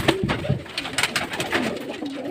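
Pet pigeons coo close by in soft, throaty bursts while water is set out for them, several short calls overlapping amid faint rustling.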